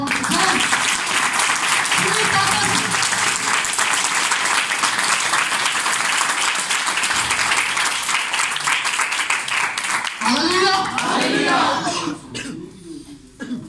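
Loud, sustained applause from a church gathering awaiting a sermon on spiritual awakening, dense clapping filling the hall for about ten seconds before thinning out, with a voice and a few coughs near the end.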